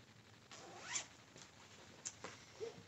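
Zipper on a textured fabric project bag pulled in a few short, quiet rasping strokes, close and otherwise silent.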